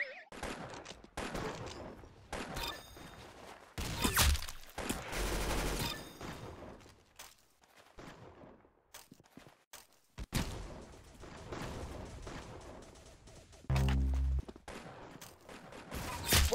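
Video game gunfire in Arsenal comes in loud bursts and rapid volleys, separated by quieter gaps with thuds and movement.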